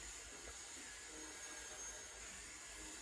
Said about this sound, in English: My sister's hoovering her car outside,